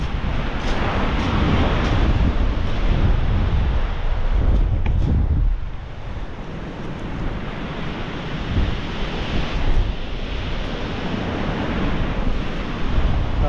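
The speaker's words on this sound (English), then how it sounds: "Massive sea out there." Rough sea on the North Wales coast: heavy surf roars and crashes continuously under strong gusting wind buffeting the microphone, loud and close for the whole stretch with no voices.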